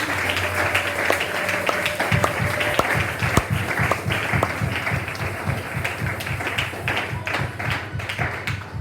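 A church congregation at a Sunday service applauds loudly and steadily for the pastor, dense overlapping claps with some rhythmic tapping, lasting throughout without pause.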